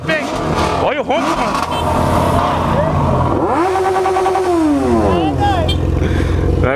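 A Corvette engine roars and revs hard, rising and falling in pitch through several loud, close throttle blips with a deep rumble underneath, while voices talk over it.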